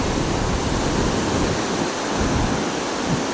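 Roaring water rushes over the Vendipalayam barrage in a loud, steady broadband wash with low churning surges, close by and unbroken, with no voices.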